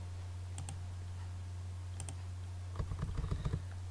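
Keys are tapped on a computer keyboard while working in AutoCAD: a couple of isolated double taps, then a brief quick burst of keystrokes, close up over a steady electrical hum with no talking.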